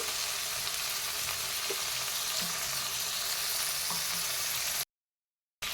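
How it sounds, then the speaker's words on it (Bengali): Fish frying in oil with capsicum and brinjal, a steady close sizzle with faint stirring clicks, no onion or garlic in the pan, ending in a brief dropout of silence. "ভালো করে একটু কিছুক্ষণ ভেজে নিচ্ছি"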